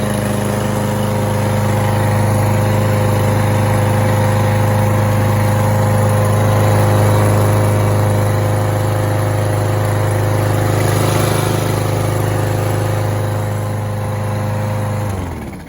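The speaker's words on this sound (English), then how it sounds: "Okay, here's the pull. Let me try to grab my phone and let me pull it." A Craftsman M125 push lawn mower engine runs steadily after being pull-started outdoors, a loud, constant droning hum that holds for several seconds before cutting off abruptly at the end.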